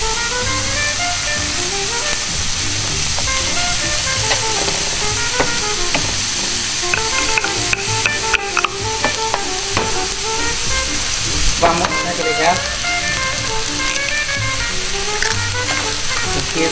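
Chile sizzling and frying loudly in a pan while a utensil stirs and scrapes through it, a continuous close crackle with occasional knocks.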